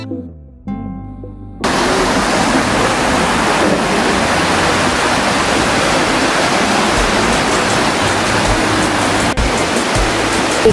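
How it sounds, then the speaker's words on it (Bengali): Waterfall at Lauterbrunnen, Switzerland, roaring as a loud, steady broadband rush of falling water that starts abruptly after a brief quiet opening and continues unbroken, close and dominant. "এখানে এই যে পানি পড়ার যে দৃশ্যটা দেখতে পাচ্ছেন, এটি মূলত ঝর্ণার পানি।"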